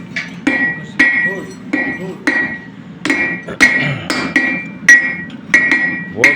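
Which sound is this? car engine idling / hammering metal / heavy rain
hammering metal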